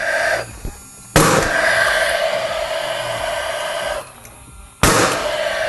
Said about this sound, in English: and again drive it home with the nail gun.